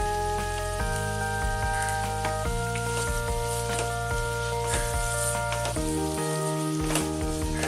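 Grated carrot halwa sizzles steadily as it is stir-fried in a pan over a medium gas flame, a dense continuous crackle with occasional scraping stirs, heard alone with music tones running underneath.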